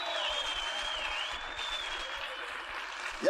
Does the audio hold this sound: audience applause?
yes